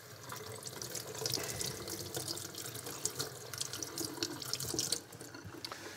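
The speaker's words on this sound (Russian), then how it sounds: "Я уберу их под струей воды." Tap water runs continuously into a kitchen sink while pepper seeds are rinsed out under the stream, a steady splashing hiss with small irregular spatters and drips, close and alone.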